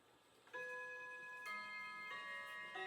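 A clock chimes eight o'clock with clear, ringing bell strikes spaced about a second apart, each tone lingering into the next, faint and indoors with no talk.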